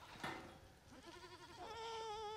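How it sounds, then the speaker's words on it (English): A farm goat bleats, a faint scrape at first, then a drawn-out wavering bleat that grows stronger toward the end, close by with no talking. "So that goat I just showed you is Brendan's"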